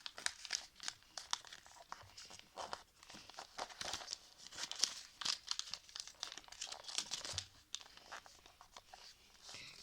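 Paper being folded into an origami frog: close, quiet crinkling and crisp creasing in busy irregular bursts, with occasional sharper rustles and no speech.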